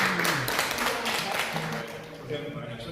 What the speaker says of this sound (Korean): 박수 한번 보내드리고 시작하시죠